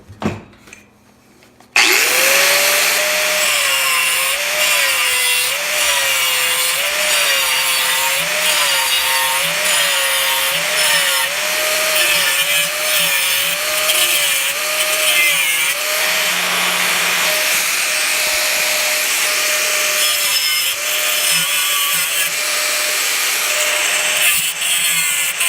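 A plastic fender for a 1983 Honda ATC 70 is cut and then cleaned up with an air die grinder, producing a loud, continuous, close whine with a wavering pitch and gritty cutting noise after a brief quiet start.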